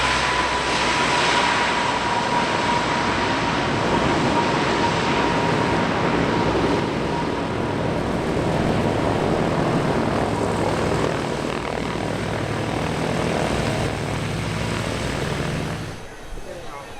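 A Super Guppy cargo aircraft flies at the Oshkosh airshow, its engines a loud steady drone throughout that eases slightly near the end.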